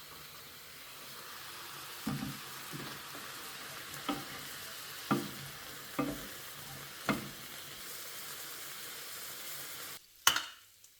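Tofu stir fry sizzling steadily in a pan, with a string of distinct stirring scrapes and clacks at roughly one-second intervals, then a brief louder clatter near the end; no talking.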